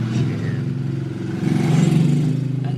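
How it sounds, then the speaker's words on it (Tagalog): A motorized tricycle engine rumbles nearby with a steady, throbbing low drone that swells slightly louder toward the end. "Ang ingay ng tricycle."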